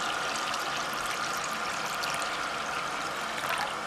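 Water is poured over wheat berries in a jar to soak for rejuvelac, a steady splashing, trickling stream that runs evenly and close throughout without pauses.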